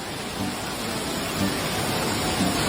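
Steady rain falls as a constant broadband hiss, with faint low murmurs underneath and no clear voice.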